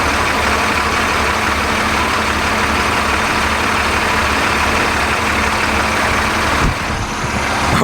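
A heavy troop-transport vehicle at Drive Tanks on Ox Ranch in Uvalde, Texas, idles with a loud, steady diesel rumble that stays close and unbroken throughout, with no voices.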